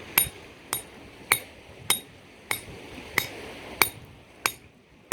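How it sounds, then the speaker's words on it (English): A Cold Steel war hammer strikes a rock in eight sharp, evenly spaced metallic smacks, close and loud, each ringing briefly before the next blow. "I'm going to go abuse this rock a little bit with the thing, show you how it's going to hold up against some smacks"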